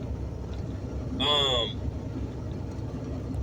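Steady low engine rumble of a car in motion fills the clip, with a brief higher whine rising partway through.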